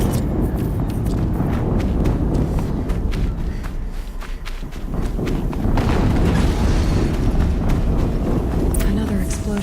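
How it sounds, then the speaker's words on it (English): Booming explosions in the Horizon Zero Dawn video game ring out over dense, continuous game noise of footsteps, clattering and combat, with dialogue running underneath throughout. "Another explosion."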